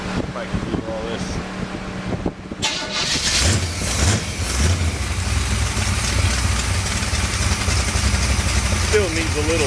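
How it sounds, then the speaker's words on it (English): A freshly tuned car engine idles steadily after a rough start, with a low continuous rumble running throughout under wind noise and intermittent talking nearby. "but it idles better now. It seems responsive."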